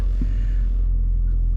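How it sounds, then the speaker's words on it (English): A cold Hyundai Ioniq Hybrid's engine drones as a steady low hum heard from inside the cabin, continuous and fairly loud with no talk over it. "So as you can hear the hum of the engine right now because the car is too cold."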